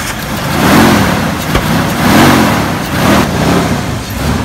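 Jeep engine with a clutch, just refueled after running on empty, idles and revs in slow repeated swells, a steady mid-range motor hum rising and falling about three times.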